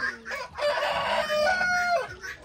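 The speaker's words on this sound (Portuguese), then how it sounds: "olha o poleiro das galinhas aqui" Chickens on their roost give a drawn-out crowing, clucking call, close and clear, rising and falling over a couple of seconds with no talking over it.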